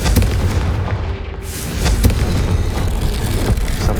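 Blasting spell explosions and impacts in the video game Hogwarts Legacy, a dense series of loud booms and rumbling blasts packed close together throughout.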